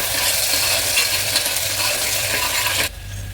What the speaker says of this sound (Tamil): இது எல்லாமே நல்லா வதங்கட்டும்.